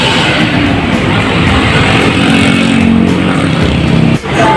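A motorcycle engine idles and runs steadily, a loud, close mechanical drone that dips briefly near the end.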